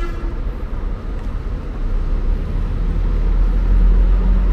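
Intercity bus pulling out of São Paulo's Tietê bus station, a steady low engine rumble that grows slightly louder and heavier as it moves off, with faint traffic noise around.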